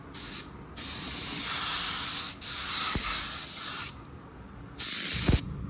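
A $109 paint spray gun hisses loudly in several sustained bursts while coating a car, separated by brief pauses, the spray close and continuous within each pass.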